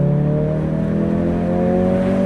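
A car engine drones at a steady, loud pitch while the car drives along, holding an even roar throughout with no voices.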